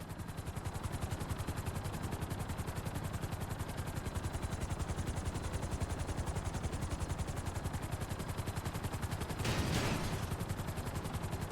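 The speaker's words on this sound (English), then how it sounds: "Bring the helicopter down gently onto the helipad." A helicopter coming down onto a helipad in the game GTA V: a steady, rapid rotor chop fills the whole stretch at even volume, with a short whooshing surge near the end.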